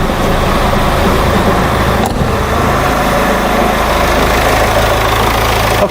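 Diesel car engine with a Bosch common-rail quantity control valve, running at idle with a steady, loud, close mechanical rumble and a faint knock throughout.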